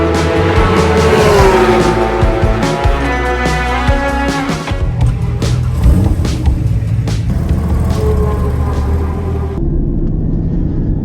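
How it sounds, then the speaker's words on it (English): Porsche GT2 sports cars rumble loudly close by, a throaty engine note with revving and a brief tire squeal, continuous and strong throughout. "There's lots of GT2s around here, lots of them. Sounds amazing."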